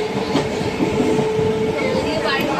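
A train at Asansol station rumbles past nearby with steady rolling noise and faint wheel clatter, loud and continuous throughout.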